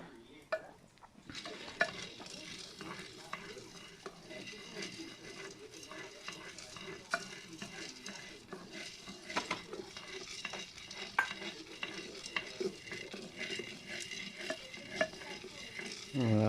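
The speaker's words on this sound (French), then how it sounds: "Suivant la puissance du feu, il faut mélanger comme ça jusqu'à ce qu'il devienne un peu brun, quoi." Coffee beans stirred in a hot pan over a fire, roasting until lightly browned: a steady rattling scrape with faint sizzling runs throughout, close and moderately loud, with voices speaking over it.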